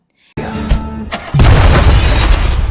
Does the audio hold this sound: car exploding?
yes